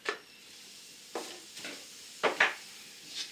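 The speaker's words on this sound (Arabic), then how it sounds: "كنجيب معلقة وكنبدا نخلط" A spoon stirring a homemade hair mask mixture in a bowl, producing a few soft, scattered scraping and clinking strokes, quiet and close, with no talk.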